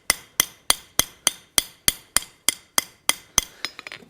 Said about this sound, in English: Use the slider hammer to form that outside edge better.